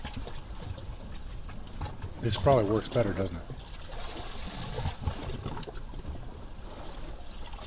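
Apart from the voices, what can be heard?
theatre sound design of water lapping under a hut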